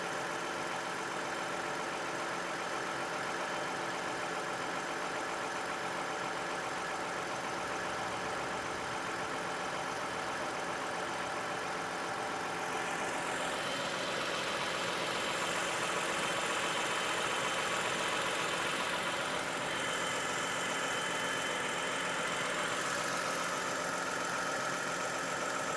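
A Toyota Sienna engine runs at a steady idle, a constant mid-pitched hum with a faint rattle that grows a little louder partway through and carries on unbroken.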